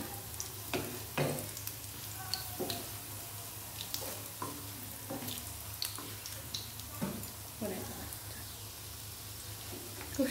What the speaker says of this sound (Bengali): উল্টে দেবো বড়াটা সাবধানে